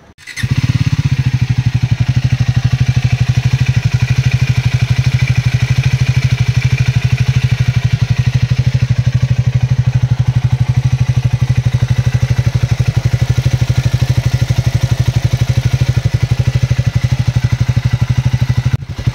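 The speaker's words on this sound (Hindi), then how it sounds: "अभी हमने दोनों बाइक चालू करके रख दी है, तो दोनों बाइकों का आवाज़ देखिए" A Triumph Speed 400 motorcycle engine idles loudly and steadily up close, its low, even thrum continuous throughout with a faint mechanical clatter on top.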